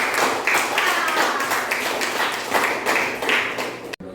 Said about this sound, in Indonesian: tepuk tangan untuk kita semua ya.